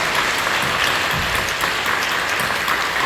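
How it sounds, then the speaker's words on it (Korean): A church congregation at a Korean Full Gospel service in Incheon applauds warmly for the university young adults, steady dense clapping filling the room for a few seconds with no voices over it. "우리 축하하고 격려하며 박수 한번 주세요"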